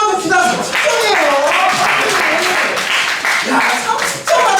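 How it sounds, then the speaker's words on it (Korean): Loud, sustained applause and clapping from a church youth group crowd cheering middle school students at a recitation contest awards ceremony, with voices mixed in throughout. "중학생 박수 한번 보내줍시다"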